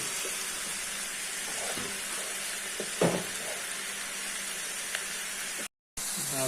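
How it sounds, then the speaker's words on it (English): A sauce for egg fried rice sizzles steadily in a hot pan, a broad close hiss with a few stirring knocks and clatters, briefly cut to silence near the end. "Now we add the sauce."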